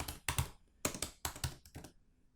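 A short burst of typing on a computer keyboard, with clustered key clicks in three or four quick bursts, close and fairly crisp, then trailing into quiet.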